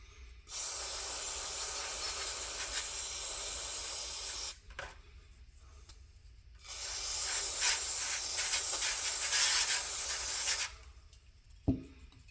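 Two long bursts of spray hiss as a cleaning wash is blasted onto the petcock of a Honda CB350 motorcycle, each lasting several seconds with a short pause between and a small knock near the end; no voices.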